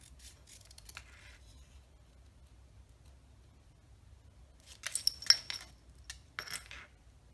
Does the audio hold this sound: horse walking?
no